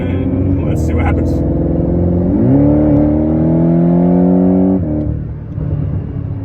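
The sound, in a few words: Porsche 718 GTS engine revving on dyno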